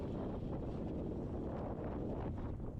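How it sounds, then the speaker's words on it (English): Continuous rumbling wind off the shore buffets the microphone on an Alaskan commercial herring fishing boat, a dense low roar with no clear pauses. "Kind of windy today, but it's an east wind off the shore."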